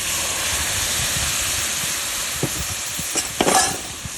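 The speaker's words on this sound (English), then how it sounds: "Stir that up." A quarter cup of Guinness stirred into beef stew in a cast iron pot at a campsite, deglazing the bottom: a steady sizzling hiss with a few spoon scrapes near the end, close and fairly loud.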